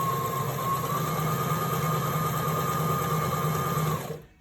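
A Brother LX sewing machine runs a decorative stretch stitch at a fast, even hum for about four seconds, then winds down and stops.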